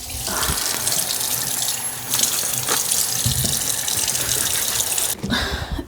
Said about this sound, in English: We're washing the shoes.